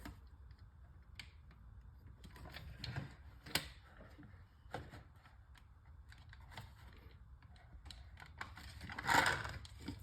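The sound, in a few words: loading darts into a homemade pump action musket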